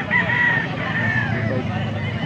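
A Brahma rooster crows amid a busy chicken market in Pampanga, one drawn-out call over constant crowd noise and other fowl, with people talking nearby.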